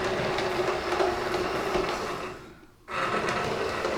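A Bachmann Class 46 D186 model diesel locomotive in weathered BR blue runs along model railway track, giving a steady close mechanical whir and rail rumble that dips briefly near the end before picking back up.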